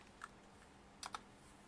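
Three faint key taps on a computer keyboard, one alone and then two quick ones a moment later, against quiet room noise.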